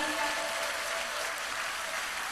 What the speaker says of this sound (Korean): 김영길 강사님께 다시 한번 감사의 큰 박수 부탁드립니다